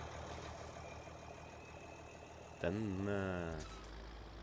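A loud tractor engine in Farming Simulator 17 cranks and fires up partway through, settling into a heavy rumbling idle that dominates the scene for about a second before cutting off, with someone speaking over it.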